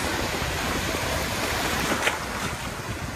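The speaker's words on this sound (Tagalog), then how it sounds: "Ang lakas ng alon." Strong ocean waves surge and crash at Playa San Juan beach in Alicante, a steady loud roar of surf with heavy wind buffeting the microphone and one brief sharper splash partway through.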